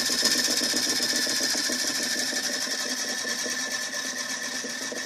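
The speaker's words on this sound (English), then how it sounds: "there's my little motor." A small DC motor runs steadily throughout, giving a continuous, fairly loud whine with a rapid rhythmic buzz and no voices.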